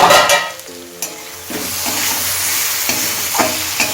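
Mourola fish chorchori with tomato cooking in a pan over a low gas flame, a steady soft sizzle with a few stirring scrapes near the start, continuous and close.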